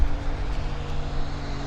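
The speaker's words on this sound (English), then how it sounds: "here comes an airplane coming in" An airplane approaching to land at Vancouver International Airport, its engine a steady loud droning rumble with low tonal hum, heard alone without talk.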